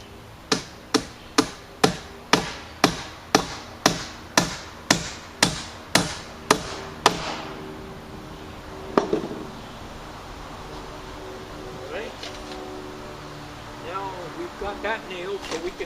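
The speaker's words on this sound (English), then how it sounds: "Got that nailed, so we can nail all 3 here." Hammer driving nails into wood on a top build, a rapid series of about fifteen sharp, evenly spaced strikes up close, then scattered knocks and handling noise.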